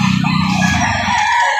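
A single rooster crows loudly nearby at a poultry trader's farm in Lipa City, Batangas, its drawn-out call sounding clearly with no speech over it.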